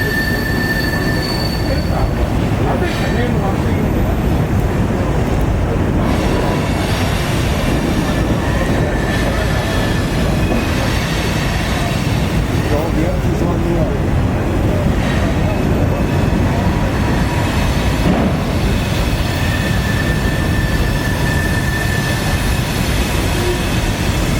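A trolley train rumbles steadily past close by, wheels grinding with occasional high metallic squeals over a dense, continuous roar.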